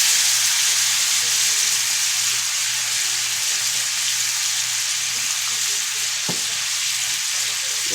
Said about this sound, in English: We want them to sear.